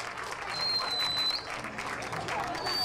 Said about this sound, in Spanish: Pido un fuerte aplauso para el señor Víctor Martínez y su señora esposa Josefina.